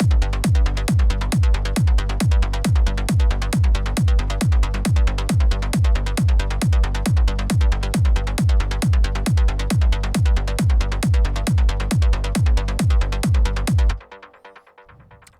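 A punchy uplifting trance mid bass synth pulses in a steady, fast driving rhythm with a kick for about fourteen seconds, then cuts off into a brief fading tail.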